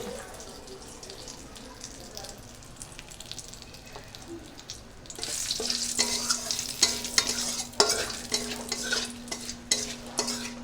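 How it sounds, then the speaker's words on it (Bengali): Oil heating in a wok for tempering with bay leaf and cumin, first a low murmur, then a louder sizzle that swells halfway through with sharp crackles and a steady tone beneath, no talking. "দিয়ে দিলাম কড়াইতে তেল তারপরে দিয়ে দিলাম তেজপাতা এইবার আমি দিয়ে দেব কিছু জিরে সম্বরা"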